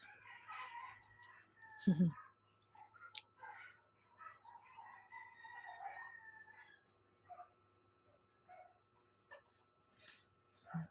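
Roosters crow in several drawn-out calls from a distance, with soft clucking and a low hum in the background.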